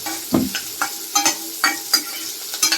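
Ginger and green chilies sautéing in hot oil for a Kerala-style beef roast, with a steady close sizzle broken by repeated scraping stirs of a spatula against the pan, about eight strokes in under three seconds.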